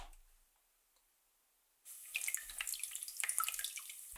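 An ultrasonic four-membrane cold-fog humidifier switches on after a quiet pause, then gives a bright, sputtering hiss of spraying water droplets that stays close and fairly loud until the end.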